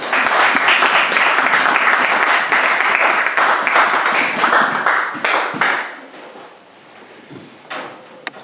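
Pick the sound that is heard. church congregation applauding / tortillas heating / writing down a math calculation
church congregation applauding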